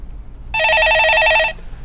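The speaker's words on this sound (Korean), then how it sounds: "예, 전화 받아보겠습니다." In a Korean stock-advice call-in studio, a desk telephone gives a single loud electronic trill lasting about a second, with quiet before and after.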